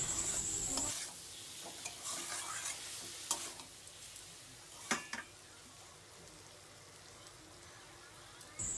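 A shaluk (water lily) flower dish stirred in a pan, with a soft sizzle under a few scattered spoon scrapes and one louder knock, quiet and close, with long near-silent stretches and no voices.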